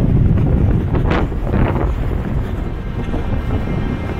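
Strong winter wind on a climb of Mount Olympus, a loud, constant roaring buffet against the microphone with no break throughout.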